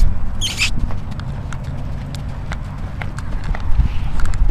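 A horse canters on a lunge line, its hooves giving a rhythmic, fairly close clip-clop beat over a continuous rumbling background.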